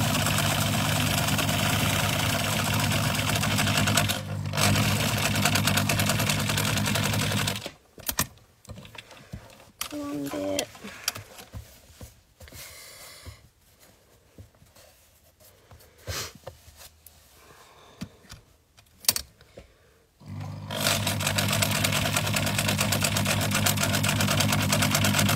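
A sewing machine back stitches overalls, running steadily and loudly at first, pausing for a stretch of quieter handling sounds and a few taps, then running again at full speed until the end.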